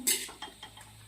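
Coriander fried rice being spooned from a pan into a bowl, giving a few light clinks and scrapes of utensil on dishware, close and brief in a quiet kitchen.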